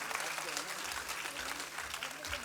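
Audience clapping at an Arya Samaj conference session in Himachal Pradesh, welcoming officials; a steady, fairly faint wash of applause runs throughout with no pauses.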